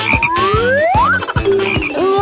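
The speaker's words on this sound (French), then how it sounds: "Non, c'est un crapaud." A toad croaks in a rapid, loud, close series of pulsing calls, with rising tonal sweeps layered over the croaks.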